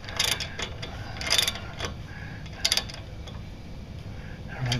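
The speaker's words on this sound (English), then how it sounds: "Hard to keep the camera steady and crank the ratchet at the same time" Ratchet cranked on a stuck brake caliper pin in a home garage, a close series of quiet clicking bursts in irregular groups over low background noise.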